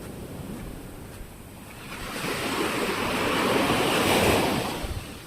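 River water rushes steadily with a broad, noisy wash that swells slightly partway through, heard up close with some wind buffeting.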